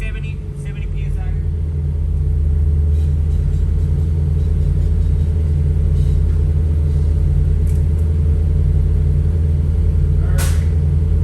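Air bag suspension on a vehicle being aired up to high pressure, a steady low compressor drone and rumble running throughout at a loud, even level, with faint people talking in the background.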